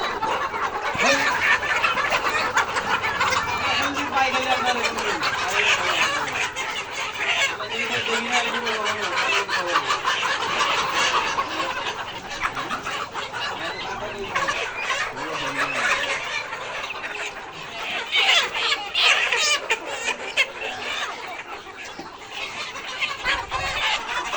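Layer pullet chickens on a poultry farm, a flock clucking and cackling continuously at close to mid distance, overlapping calls with steady farm background noise and no clear talk.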